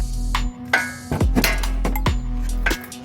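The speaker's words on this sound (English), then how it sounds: "you hit it right here with the hammer" Several sharp metallic hammer strikes ring out on a tie rod end of a Mazda 3, uneven blows with brief ringing tails over a steady low hum.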